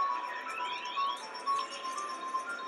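Casino slot machines chime and ring in the background with faint, overlapping electronic bell tones and jingles. The steady, distant clamour of a gaming floor plays alone with no talk.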